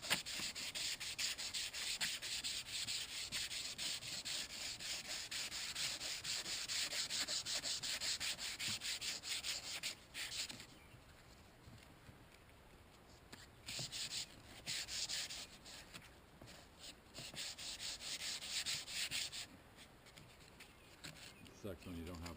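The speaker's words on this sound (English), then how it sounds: "Let's go to sanding." A car front end part is sanded by hand without proper sanding tools. The rasping strokes are steady and close, run for a long stretch, then break into shorter bursts with pauses between them.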